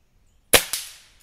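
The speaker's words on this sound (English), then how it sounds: "gotta shoot him in the belly there" Two sharp air rifle shots fired at a rabbit 27 yards away with a Black Bunker BM8 scoped rifle, each a loud crack with a short decaying tail, the second slightly quieter, alone with no talk.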